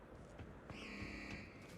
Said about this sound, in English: you can hear the alarm going off